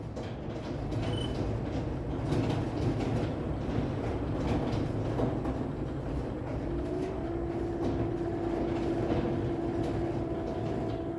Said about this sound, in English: I'll start with a 1/2-inch spindle gouge.